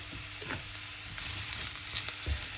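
Mushrooms fry in a hot pan for a vegetable stir-fry, giving a steady, close, bright sizzle with faint scraping from stirring and no talk.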